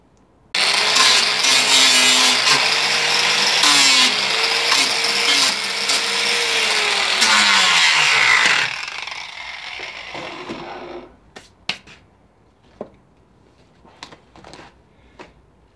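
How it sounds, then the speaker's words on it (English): A Foredom rotary tool with an abrasive cylinder grinds a ram's horn, a loud, continuous high whine that shifts pitch under load for about eight seconds, then spins down, followed by scattered sharp clicks and taps. "We've taken this bead out here with the foredom and an abrasive cylinder."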